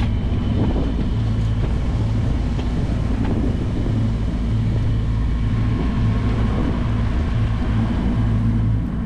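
A sailboat's inboard engine motoring at 1800 rpm, a steady low droning hum with a regular throbbing pulse, close and continuous under wind noise, with no talking.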